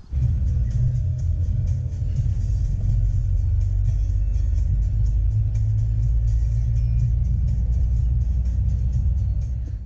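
A packed car drives toward the fields in the early morning, its engine and road rumble loud and steady throughout, with no talk.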